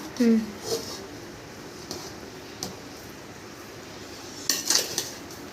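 Biryani is stirred in a metal pot, with a few sharp spoon clinks and scrapes, sparse and uneven, while a voice is faintly heard.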